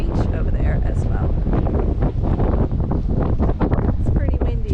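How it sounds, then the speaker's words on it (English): Strong wind buffets the microphone on Bay of Martyrs beach along the Great Ocean Road, a steady loud roar running the whole time with gusty rumble; no clear speech stands out. "It's pretty windy out here."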